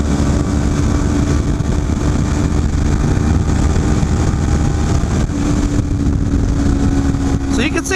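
A 250cc motorcycle engine held at full throttle, around 9,000 RPM, on a highway, giving a loud continuous drone with heavy wind rush and no breaks, close and steady throughout.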